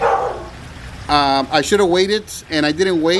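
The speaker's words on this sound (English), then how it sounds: "I'm sorry for the dog, guys. It's my neighbor's dog." A neighbor's dog barks and yips in short bursts close by while a person keeps talking over it.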